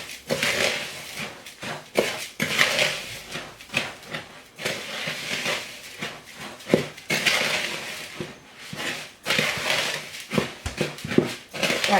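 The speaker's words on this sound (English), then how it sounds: "you're just gonna want to get a spoon and mix that all together" A spoon mixes ingredients together in a bowl for egg-free, salt-free fried chicken, giving loud, rhythmic clinks and scrapes against the bowl with no talking.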